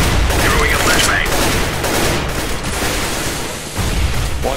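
A grenade blast and flashbang in a Counter-Strike: Global Offensive match on the Nuke map, loud gunfire and explosive bursts filling the whole stretch, dense and continuous.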